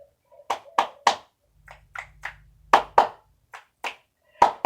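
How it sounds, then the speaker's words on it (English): Series of sharp hand claps and snaps, single and paired, during a stretching and strengthening session, somewhat irregular and sluggish in rhythm, close and fairly loud against quiet, with a faint low rumble partway through. "My clap snaps are a little slow and sticky today"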